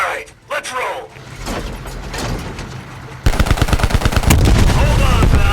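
Rapid automatic gunfire rings out in a Call of Duty Black Ops Cold War cutscene. It comes in loud, close, sustained bursts over vehicle and action noise, with voices shouting.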